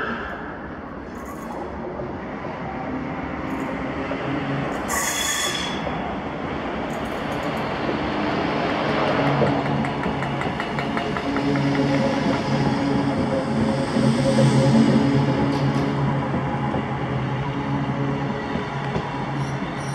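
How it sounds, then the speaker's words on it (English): Electric ScotRail multiple unit train, class 318 on a Glasgow Central to Motherwell service, running steadily with a continuous rumble and wheel noise, rising slightly toward the middle, faint higher squeals above, no talking. "my first catch of the day was 2B82, the 1415 ScotRail service to Motherwell from Glasgow Central"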